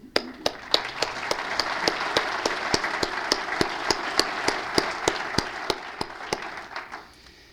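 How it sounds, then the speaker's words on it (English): Applause at a book talk on a Reagan biography as audience members honour relatives in the front row: steady, moderate clapping with a few distinct sharp claps standing out, fading toward the end. "Just stand up, please, so we can applaud."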